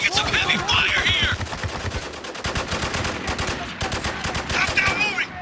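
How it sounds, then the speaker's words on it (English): Heavy gunfire crackles in the Spec Ops: The Line video game as a dense, rapid automatic burst, loud and close, with voices shouting briefly among the shots. "We're taking some heavy fire here!"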